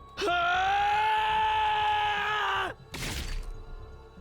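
A drawn-out bestial scream of rage from a character in the video game The Hundred Line, loud and sustained for over two seconds before cutting off, followed by a short burst of harsh noise.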